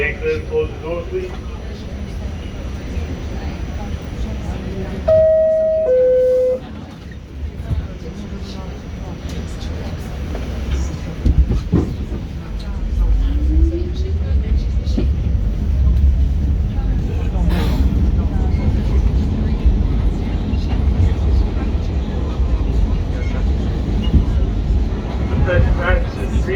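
An R46 subway train on the W line rolls toward Times Square with a continuous low rumble and rattle. A two-tone door chime comes early, then screeches and clanks over the running noise, with people speaking at times.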